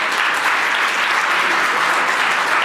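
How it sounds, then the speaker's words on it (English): Warm audience applause at a Digital Ocean Forum conference, a steady, dense wash of many hands clapping throughout, close and continuous with no voices over it. "You can give her a warm round of applause"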